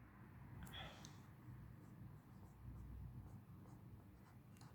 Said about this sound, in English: Here, students, I will write an example.